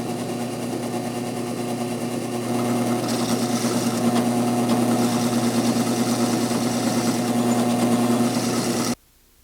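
A drill bores through an antler pen blank with a steady, whining motor hum that holds for about nine seconds, then cuts off abruptly.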